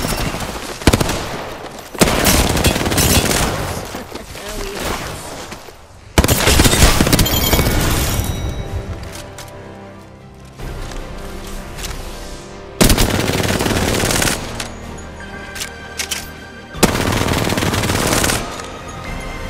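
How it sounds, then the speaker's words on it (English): Sustained automatic gunfire and weapon bursts in the battle-royale shooter game Apex Legends, loud and dense, coming in several long volleys separated by brief lulls and overlapping sharp impacts. "Plonkers shooting at me."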